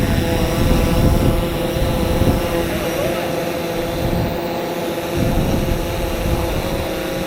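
A fishing drone's propellers whine steadily overhead, a constant buzzing hum that stays fairly close, with faint voices in the background.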